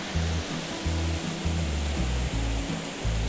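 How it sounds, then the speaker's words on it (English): A small waterfall cascades about ten feet down a sliding-rock chute into a deep pool on a winter stream beside a paved road, giving a steady, loud, close rush of broadband water noise that runs unbroken throughout. "Really a 10-foot drop, more of a cascade, kind of like sliding rock. Nice deep pool at the bottom."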